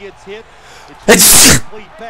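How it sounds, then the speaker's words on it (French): A single loud, explosive sneeze bursts out midway, with quieter speech murmuring before and after it. "Je vais éternuer bientôt, je ne sais pas quand."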